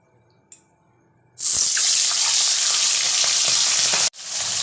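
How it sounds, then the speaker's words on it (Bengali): Pomfret fish is dropped one by one into hot oil in a wok, setting off a loud, steady sizzle that fries on and on, briefly cutting out before resuming. "এই অবস্থাতেই আমি কড়াইতে একে একে মাছগুলোকে ছেড়ে দিচ্ছি"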